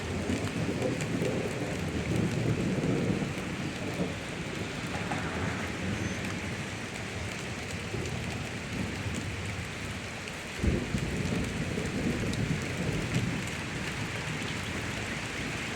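An afternoon thunderstorm in Pittsburg, Kansas, with steady, dense rain falling on surfaces and low rolling thunder rumbling through, including a sharper clap near the middle, loud and continuous throughout.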